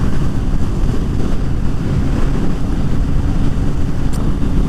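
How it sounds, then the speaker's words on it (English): Heavy wind buffets the GoPro microphone on a Suzuki GSX-S750 motorcycle, a loud, continuous low roar and rumble that fills the whole stretch with no talking. "Quite a lot of wind around today."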